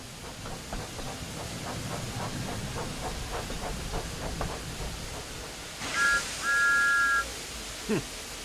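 Toy-scale steam engine chuffing rhythmically, then a burst of hissing steam and two shrill whistle toots, the second longer, followed by a short clank.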